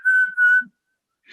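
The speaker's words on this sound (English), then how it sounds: "I'm still whistling for you." A person whistles a single steady, clear tone in two sustained phrases with a short break between them, close and fairly loud, followed by silence and a faint rustle at the end.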